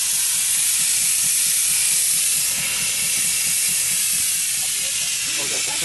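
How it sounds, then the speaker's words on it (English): Safety valve on a 1912 George White miniature steam tractor vents steam in a loud, continuous broadband hiss that lasts the whole stretch, with faint low rumbling underneath. "That was the pressure valve going off."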